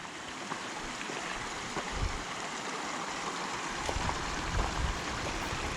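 Creek water runs steadily below a waterfall on a hiking trail, a soft continuous rushing wash with small splashy bursts, moderately close and without voices.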